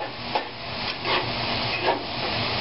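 Sliced bitter gourd (ampalaya) sautés with garlic in a hot pan, giving a continuous close sizzle broken by a few scraping stirs.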